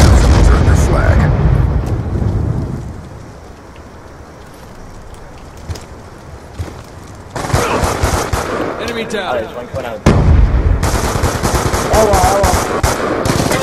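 Gunfire in Call of Duty Black Ops 2, loud rapid automatic bursts that come and go across the clip among game noise, with a voice speaking briefly.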